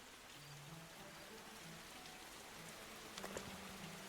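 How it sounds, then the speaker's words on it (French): Torrential rain in the Norland video game, a steady dense hiss of downpour drumming on surfaces throughout, with a few sharper pattering bursts near the end and no voices. "Une pluie torrentielle, ça bat."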